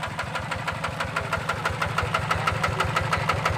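A Mitsubishi TF150DI diesel tractor engine idles close by with a loud, steady knocking chug, its rapid rhythmic thumps continuing without a break.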